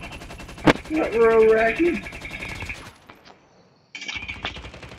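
Rapid bursts of light machine gun fire sound in a COD Mobile battle royale match, with dense, loud rattling interrupted by a brief quiet stretch while players talk over the shooting.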